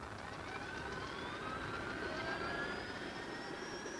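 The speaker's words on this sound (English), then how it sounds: "The C-130 has permission to take off." A C-130 aircraft takes off with a steady, fairly distant engine drone and a high whine that slowly climbs in pitch throughout.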